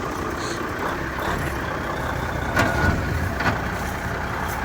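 A Peterbilt 379 truck that has broken down on a hill rumbles in a loud, rough, steady drone as it struggles to get into gear, with a brief mechanical clunk near the middle.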